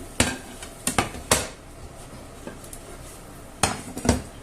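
A pan with a Spanish omelette clanks as it is flipped: a few sharp metallic knocks and scrapes come in quick clusters, with a quieter pause between them.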